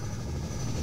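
A helicopter in a Half-Life 2 mod drones with a steady, dense rotor and engine rumble that holds at an even level throughout.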